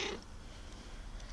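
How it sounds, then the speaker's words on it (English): A cat visiting a garden gives a soft, close purring murmur, with a brief brighter vocal burst at the very start, all quiet and without talk. "A cat come out to visit."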